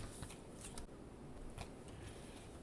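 Photocards are slipped into binder sleeves with soft, close plastic rustles and a few brief crisp slides, very quiet against faint background hiss.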